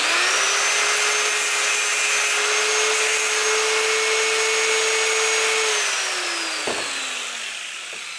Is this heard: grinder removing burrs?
yes